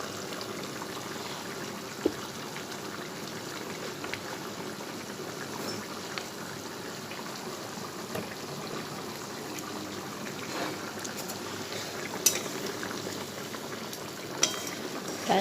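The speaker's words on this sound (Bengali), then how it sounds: "এবার একটু ফুটুক।" Hilsa fish kalia curry simmers in a pan, a steady, soft bubbling that runs evenly throughout with a few faint clicks and no voices.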